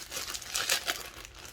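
Packaging crinkles and tears as a Conair razor kit is unboxed, with a few close, bursty crumples rising and falling and no talk over them.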